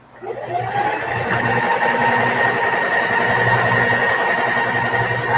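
A sewing machine stitches fabric onto an old leather belt, a steady close whirring hum that holds for several seconds with no speech.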